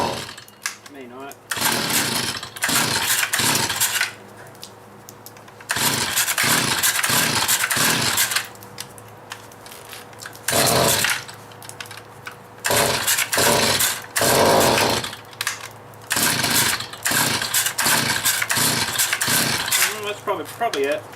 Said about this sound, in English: just idle it, if it will